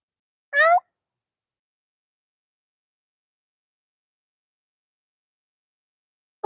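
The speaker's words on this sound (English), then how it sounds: "So we got one mic that'll pick up kitty noises when they show up" A single short cat meow sounds near and clear at the start, with a brief faint vocal start at the very end and silence between.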